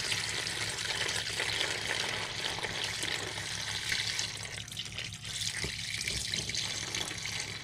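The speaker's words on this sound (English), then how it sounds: "Just pour it through a coffee filter, you'll be good to go." Liquid chemicals pour through a coffee filter in a steady, close, hissing trickle that holds for several seconds, briefly thinning near the end, with no talk.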